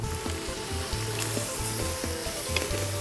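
Pork sizzles and crackles steadily on a hot tabletop grill in Laos, a dense continuous frying hiss with occasional pops and a low background hum.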